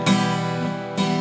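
Acoustic guitar strummed upward by a beginner, fingers catching the strings: two loud, ringing strums about a second apart, each starting with a scraping attack and sustaining harmonically, heard alone up close.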